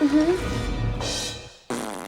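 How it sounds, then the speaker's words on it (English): A fart gag sound, a mid-length low blurt followed by a brighter, rasping burst after a short pause, fairly loud and alone without talk. "What's that noise? Oops. I farted."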